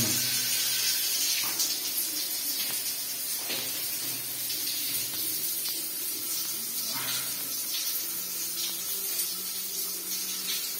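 Water runs steadily from a bathroom sink tap and a shower at the same time, making a constant broad hiss and splash that stays even for the whole stretch, with no voices.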